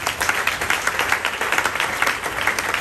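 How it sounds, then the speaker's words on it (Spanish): A church congregation claps through a wedding presentation service, a steady dense patter of hands that stays even and fairly close from start to finish. "regale un fuerte aplauso al Señor."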